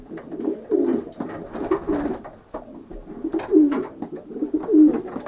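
Continuous low, throaty cooing from several racing pigeons close by, overlapping in rolling phrases with no pauses, with faint rustling in the background.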